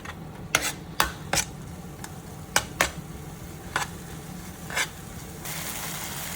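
A spoon works a masala of soft onions, ginger garlic paste, green chilies, spice powders and tomatoes in a pan for squid biryani, giving irregular clinks and scrapes against the metal over a quiet, faint sizzle.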